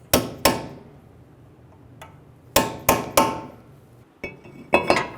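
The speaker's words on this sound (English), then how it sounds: "Using a hammer and a punch, stake the axle nut." A hammer striking a punch to stake the axle nut on a 2003-2008 Honda Pilot during front brake dust shield replacement: sharp metallic blows in loose clusters, two, then three, then pairs, close and ringing briefly.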